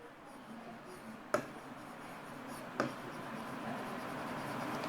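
Chalk or marker scrapes softly on a board during a biology lesson, a faint continuous scratching with two sharp taps, heard alone in a quiet room.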